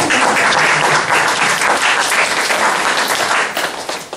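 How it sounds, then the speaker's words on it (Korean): Sustained, dense clapping from a church congregation during a sermon-style lecture on creation, loud and steady for about four seconds before thinning slightly at the end. "아, 박수 한번 칩시다"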